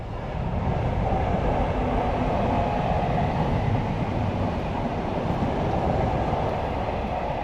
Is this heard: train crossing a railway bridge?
yes